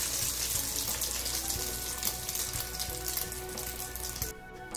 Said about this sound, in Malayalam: ബാക്കിയുള്ളതും ഇതുപോലെ പൊരിച്ചു പോരാം.